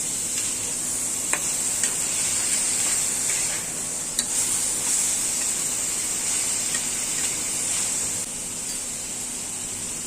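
Thinly sliced onions frying in oil in a home kitchen pan, a steady bright sizzle with occasional stirring clicks and pops, close and continuous with no talking.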